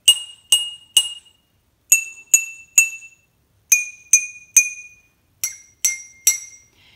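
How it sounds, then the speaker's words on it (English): Metal spoon lightly tapping glass jars filled with water, producing a series of clear, bright clinks in groups of three at differing pitches, each ringing briefly and decaying, close and alone. "grab your metal spoon and you are going to lightly tap each of the jars to hear the sound that they make"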